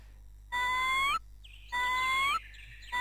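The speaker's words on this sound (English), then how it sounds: "Apologies for the squawking that will follow." Digimon in the PS1 game Digimon World squawking while digivolving: two loud, sustained synthetic warbling calls, each about half a second or more, separated by a short gap, with a third starting at the end.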